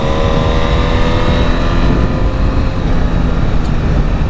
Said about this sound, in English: Hearing that throttle on occasion, like it's just a little eager to get off the throttle and on the throttle sometimes